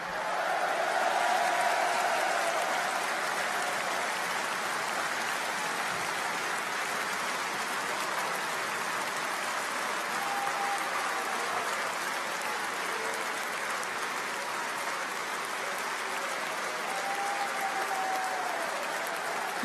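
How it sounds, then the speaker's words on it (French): A large audience applauds in sustained support of prison guards, a broad, steady wash of many hands that sounds almost like heavy rain. It is loud and even from start to finish, with a slight swell at the beginning and no speech on top. "je vous demande en signe de soutien de les applaudir"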